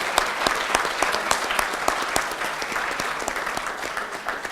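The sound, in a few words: round of applause for Team Samavesh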